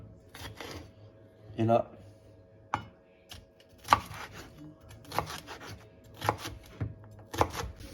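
Knife chopping vegetables such as green pepper and onion on a board, with irregular sharp cuts spaced about a second apart, close and fairly quiet, mixed with a man's brief French speech.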